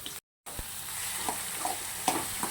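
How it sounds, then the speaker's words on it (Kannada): Onion, tomato, chili and curry leaves frying in oil in a pan on low flame, a quiet steady sizzle with occasional stirring scrapes, after a brief dropout. "ಲೋ ಫ್ಲೇಮಲ್ಲಿ ಒಂದು 5 ಮಿನಿಟ್ಸ್ ಎಲ್ಲನೂ ಫ್ರೈ ಮಾಡ್ಕೋಬೇಕು"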